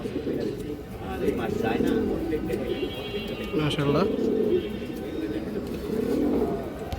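Green-necked Jabra-style pigeons coo steadily in a loft, layered low cooing from several birds running throughout, with someone talking over them.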